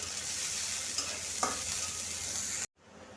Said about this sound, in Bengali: পেঁয়াজ দিলাম এবার সব কিছুকে একসঙ্গে সুন্দর করে একটু ভেজে নেব